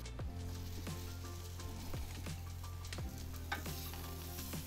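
Filet mignon steaks searing on a hot grill, a steady close sizzle with occasional crackles and light metallic scrapes, no talking.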